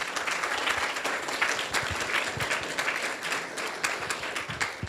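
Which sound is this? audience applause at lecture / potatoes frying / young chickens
audience applause at lecture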